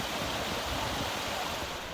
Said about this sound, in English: Hard to capture the scale of this waterfall, but it starts all the way up there and descends all the way down to here.